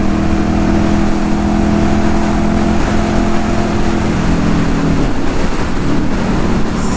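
A motorcycle engine held at high revs near 9000 rpm, a loud steady droning whine with sustained harmonic tones that dip and shift slightly near the end.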